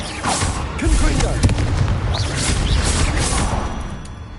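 Hogwarts Legacy's Confringo explosive spell goes off in a fight with a huge spider, producing a string of heavy booming blasts amid chaotic crashing combat noise, loud and near throughout.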